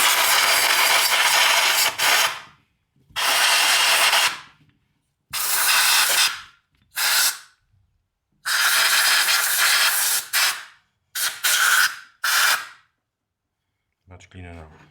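Compressed air blasts dirt off a scooter starter motor in a series of loud, close hissing bursts, about eight of them, of uneven length with short silent gaps, followed by faint mechanical handling at the end.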